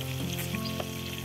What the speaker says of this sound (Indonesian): Okay, yang kita tengah goreng tu.